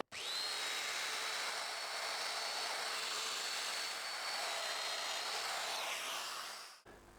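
A Festool Domino joiner cutting mortises in wood, a loud continuous high motor whine with a steady tonal edge lasting several seconds before winding down abruptly, close and alone.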